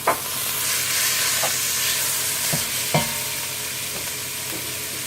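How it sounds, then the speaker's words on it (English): Ground beef browns in a pot with a steady, loud hissing sizzle, broken by a few sharp spoon scrapes and knocks against the pot, heard up close with no talking. "we're going to start browning our ground beef"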